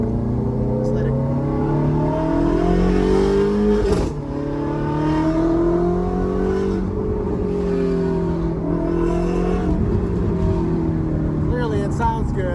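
A Ferrari F430 fitted with headers and an aftermarket exhaust revs and pulls hard through rising and falling engine notes, loud and close throughout, with a brief lift around the middle and a voice speaking over it.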